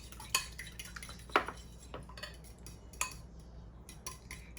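Pumpkin muffin ingredients are mixed in a bowl, with a few sharp clinks of a utensil against the bowl spaced about a second apart over soft scraping, no voices.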